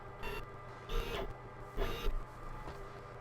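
Glowforge laser cutter running a camera calibration, a faint mechanical whirring with a few louder passes of the moving head, distant and steady with no talk.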